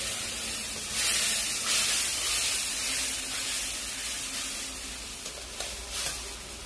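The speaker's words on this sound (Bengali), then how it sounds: "একটু আমি মশলার জল দিয়ে নিচ্ছি, যেহেতু মশলাটা না লেগে যায় কড়াতে" Spice water is poured into a hot kadai of frying masala over a wood fire for a pointed gourd and prawn curry, bursting into a loud steady hiss and sizzle that eases slightly as it goes on, with no talking.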